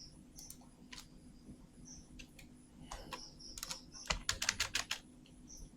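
Computer keyboard typing while building a 2D cartoon with a free AI tool, with scattered keystrokes early and a quick run of crisp, close clicks near the end, plus faint mouse clicks and no speech.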